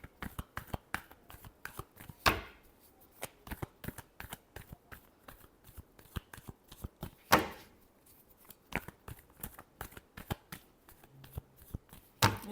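Tarot cards are shuffled by hand close up in a quick run of crisp snaps and riffles, with a couple of louder slaps standing out among the rapid card strikes.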